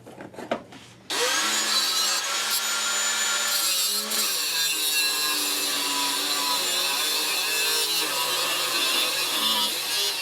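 An angle grinder slices off the edges of a Oneway lathe platform, a loud, steady abrasive whine running almost unbroken after a brief clatter at the start, with no talking.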